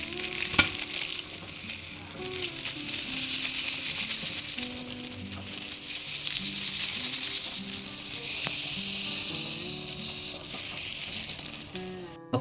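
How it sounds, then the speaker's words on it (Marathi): Semolina (rava) dry-roasting and being stirred in a pan for sheera, giving a steady close hiss with soft scraping and faint tonal clinks running throughout. "आपण रवा व्यवस्थित भाजून घेणार आहोत."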